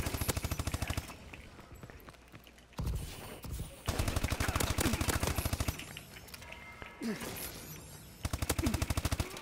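The Speakeasy submachine gun firing in a video game, rapid automatic bursts of sharp shots in several strings separated by short pauses, loud and close with a voice talking between bursts.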